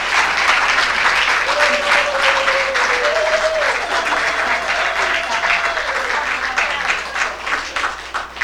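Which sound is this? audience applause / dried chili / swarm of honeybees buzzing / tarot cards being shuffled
audience applause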